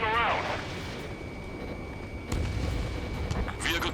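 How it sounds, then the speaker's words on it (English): A muffled booming explosion in the combat flight game Ace Combat 7, low rumbling bursts under radio-style voices and a steady tone, with a sharper blast partway through. "An explosion inside!"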